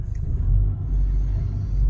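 A 2008 Nissan Altima with an automatic transmission and a 2.5-liter four-cylinder engine pulls away in drive around a lot, giving a steady close low engine rumble with no voices.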